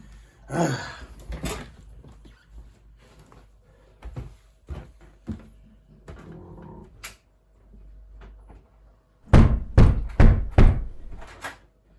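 Knocks on a door arrive in scattered single raps and then a louder cluster of several quick bangs near the end, dry and close in a quiet room.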